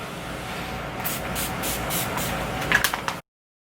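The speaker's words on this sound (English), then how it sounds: "Now I'm gonna use the Urban Decay All Nighter Setting Spray just to like lock it in even more." Several quick bursts of Urban Decay All Nighter makeup setting spray hissing, close and fairly soft, pulsing over steady background noise before cutting off abruptly.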